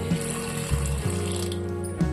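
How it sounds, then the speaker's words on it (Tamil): Water from a tap runs steadily into a cooking pan for boiling drumstick pieces for sambar, a close, continuous splashing stream with a few brief clunks. "முருங்கைக்காய் வேகிறதுக்கு தேவையான தண்ணி சேர்த்துக்கிடுவோம்"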